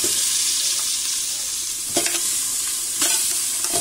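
Meat fries in very hot oil, a loud steady sizzling hiss close by, with two sharper bursts of crackling as pieces are stirred or added.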